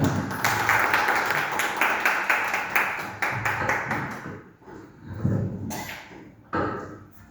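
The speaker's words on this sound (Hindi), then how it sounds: "एक बार जरूर ताली बजाएं" An audience at a Kashi gathering in Banaras claps for a teacher: a burst of fairly close hand claps, loud at first, thinning into a few scattered claps as it fades.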